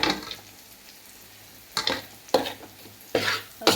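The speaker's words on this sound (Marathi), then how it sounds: "मस्त हे सगळं एका बाजूला आपल्याला असं मिक्स करून घ्यायचं" Pav bhaji vegetables are stirred through butter in a pan, with a soft steady sizzle broken by four sharp scraping bursts of a spoon against the metal, close and fairly loud.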